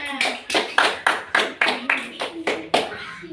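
Fifth-grade students in a classroom clap for a classmate in a steady rhythm of about a dozen sharp, evenly spaced claps, close and fairly loud.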